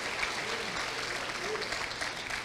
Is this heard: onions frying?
no